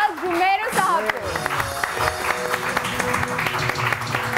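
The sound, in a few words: studio audience applause welcoming a guest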